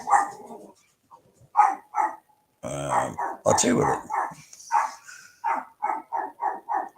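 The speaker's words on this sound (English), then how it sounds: "you can hear the dog barking" A dog barks repeatedly through the night, loud sharp barks in quick bursts that speed into a steady rhythmic series, with someone speaking briefly between them.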